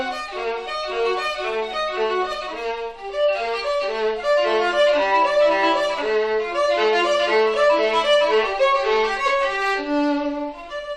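Solo violin plays Bach's Chaconne arpeggios at performance tempo, a fast, continuous stream of rolling broken chords that sounds close and steady from start to finish, with no talking.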